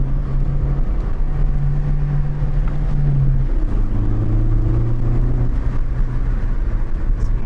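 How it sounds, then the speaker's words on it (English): A Ford Focus ST's exhaust drones steadily from inside the car while driving a winding road, a loud, continuous engine note that shifts pitch partway through as the revs change. "Really hope you're able to pick up this exhaust sound."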